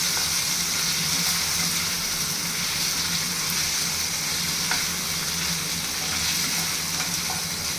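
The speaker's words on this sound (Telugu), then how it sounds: "టమోటాలు మెత్తగా అయ్యేంత వరకు వేయించుకోవాలండి" Tomatoes fry until soft for a tomato chutney served with idli and dosa, producing a loud, continuous close-up sizzle that stays steady throughout with no speech.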